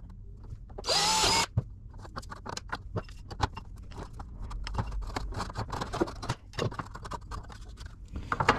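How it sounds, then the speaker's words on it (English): A power drill bores holes through the faceplate of a GT40 kit car during an air conditioning install, a loud whirring burst near the start, followed by clattering, tapping workshop noises. "I'll go ahead, drill out these holes, cut this section"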